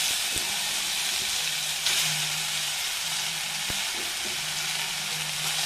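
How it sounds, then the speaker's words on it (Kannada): Ridge gourd pieces fry in oil in a pan, a steady close sizzle and hiss running throughout with a few faint clicks and light stirring knocks, no voices. "ಇದು ಬೇಗ ಬೇಯುತ್ತೆ, ಸ್ವಲ್ಪ ಹುರಿಬೇಕು ಸ್ವಲ್ಪ"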